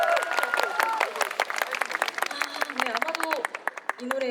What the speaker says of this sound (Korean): 여러분들 박수 한번 주세요